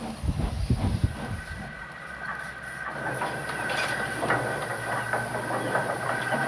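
Steam engine from a Thomas and Friends episode puffing along with soft hissing and rhythmic rail clatter, mixed with background music at a steady moderate level.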